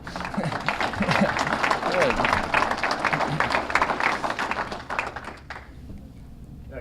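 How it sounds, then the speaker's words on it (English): An audience at a congressional infrastructure event applauds steadily, dense clapping holding loud for about five seconds before thinning out and fading near the end. "You can clap for that."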